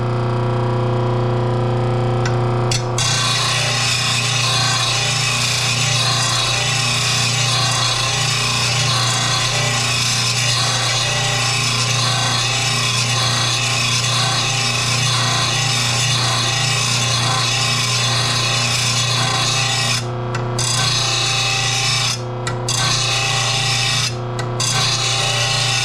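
A riding mower blade, from a McCulloch M195-42T, is sharpened on an RBG 712 grinder, giving a steady loud grinding rasp that runs almost without a break, with a few brief pauses near the end.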